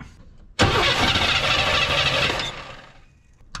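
A 1984 Chevrolet S-10 pickup engine cranks briefly and catches, roaring loudly to life close by, then settling toward a steadier run before fading near the end.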